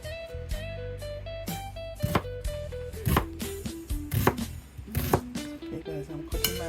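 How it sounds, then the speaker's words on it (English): A knife chops an onion on a cutting board during Jamaican stewed chicken prep, giving a run of sharp, close knocks under steady background music. "Okay guys, I'm cutting my onion."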